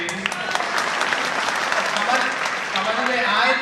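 Audience at a Hindi poetry recital breaks into lively, crowded applause, many hands clapping briskly and unevenly close by for a few seconds, with voices faintly mixed in.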